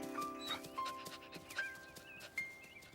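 A dog pants in quick, rhythmic breaths over a bed of cartoon music with sustained tones, close and moderately loud.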